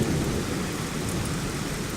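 Heavy thunder rumbles continuously through a steady downpour of rain on a stormy rainy day, loud and dense with no pauses, with no voices present.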